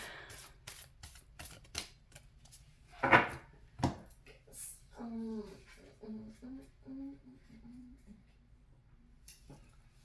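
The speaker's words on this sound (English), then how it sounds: "That's just that shuffling." Tarot cards are shuffled and handled during a reading, a quick run of crisp flicks and taps, then a louder riffle burst, followed by a soft voice and a few more scattered card taps.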